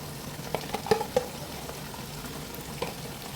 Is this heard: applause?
no